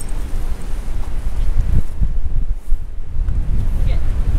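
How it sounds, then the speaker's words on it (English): Strong gusty wind on a mountain summit buffets the microphone with low rumbling roars, steady throughout and loud up close. "It's pretty windy up here."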